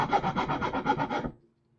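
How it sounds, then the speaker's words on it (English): Hand sanding along the edges of an MDF board, about eight quick rhythmic rasping strokes close up, then stopping into near silence. "we're just kind of sanding edges of the MDF and stuff like that"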